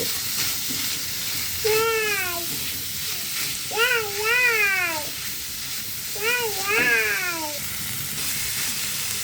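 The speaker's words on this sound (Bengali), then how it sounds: "তেলটা গরম হয়ে গিয়েছে, এখন আমি দিয়ে দেব। এখন ভালো করে ভেজে নিতে হবে।" Fish fries in hot oil with a steady, loud, hissing sizzle throughout, while a cat meows three times in drawn-out, wavering calls nearby.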